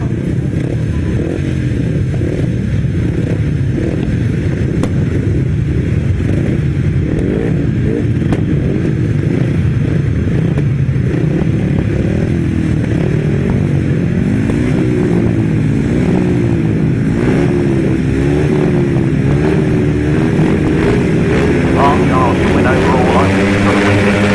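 At a 2018 grass track meeting, a pack of 350cc solo racing motorcycles drones loud and steady, the engine pitch rising and wavering as they run, with a commentator's voice carrying over the roar throughout.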